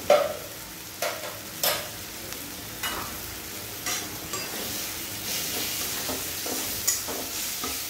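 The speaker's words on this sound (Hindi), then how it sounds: "अब इसको मुझे अच्छी तरह से फ्राई करना है।" Spices such as coriander powder and Kashmiri red chili powder fried and stirred in a pan for chicken curry: a continuous close sizzle broken by regular scraping spoon strokes about once a second, with no talking.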